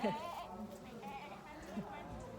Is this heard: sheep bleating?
yes